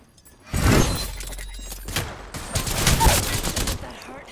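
Sniper gunshots in the video game Apex Legends, a sharp burst near the half-second mark and more cracks around three seconds, mixed with game noise and faint voices.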